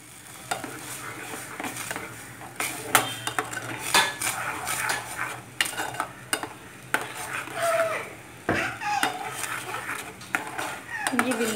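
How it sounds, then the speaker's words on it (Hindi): A spoon stirs oats porridge cooked with ghee in a pot, giving repeated metallic clinks and scrapes against the pot at an irregular rhythm, close and moderately loud. "घी डाल के हम इसको अच्छा स्टर करेंगे।"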